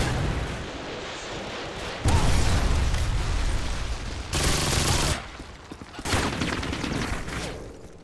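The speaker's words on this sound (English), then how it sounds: "Friendly Predator missile inbound." Loud rumbling blasts and explosions from a Predator missile strike in Call of Duty: Modern Warfare 2, several heavy booms in succession with dense, crackling debris noise between them.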